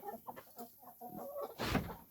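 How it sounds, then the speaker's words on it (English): Chickens in a tropical homestead's chicken area, both meat and egg birds, clucking and murmuring softly in a low, uneven chatter with a brief louder rustle near the end, fairly faint and with no talking. "So this is chicken area."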